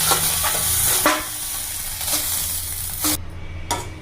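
Butter sizzles and crackles steadily as it melts in a hot pan close by, with occasional scrapes and taps of a stirring utensil.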